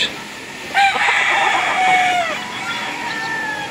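A Roundhead white-legged gamefowl rooster crows on a game farm in Bacolod Silay, one drawn-out call at moderate distance over a busy background of other fowl and faint murmuring voices.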